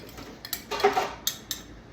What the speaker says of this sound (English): Let me get me something to scrape the rest of these little onions out of there